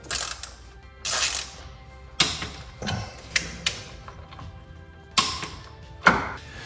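A hand ratchet tightens engine mount bolts on a Porsche Boxster 987.1 with a 16 mm socket, sounding as loud, close bursts of rapid clicking separated by pauses and occasional metallic thunks.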